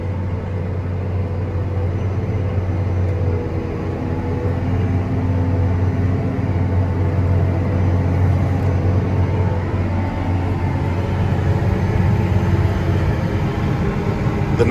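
A John Deere 9RX 640 tractor pulls a 9-shank V-ripper through hard, compacted field soil, its engine a steady, heavy low drone that holds constant and unbroken, with no one talking.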